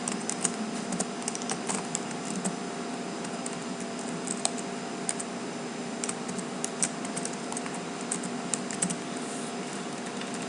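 Steady typing on a computer keyboard while a network name is entered, with quick light keystrokes clicking continuously and fairly close, no talk over it.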